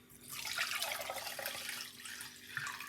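Carrot and pomegranate juice poured through a small kitchen strainer, a soft continuous trickling and splashing stream lasting a few seconds, close but quiet.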